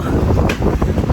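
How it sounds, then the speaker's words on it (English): Strong, cold outdoor wind buffets the microphone in heavy, rumbling gusts that rise and dip throughout. "This wind is crazy."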